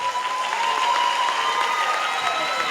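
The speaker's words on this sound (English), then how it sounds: "Let's give them a round of applause." Audience applause at a college commencement ceremony, a broad, steady wash of clapping from a large crowd that holds throughout, with a faint tone drifting underneath.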